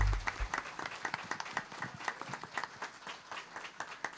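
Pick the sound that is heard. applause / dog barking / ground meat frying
applause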